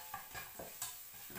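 Garlic frying in a pan for Thai yellow noodles, a faint close sizzle with a few light scraping stir strokes, brief and quiet, no voices.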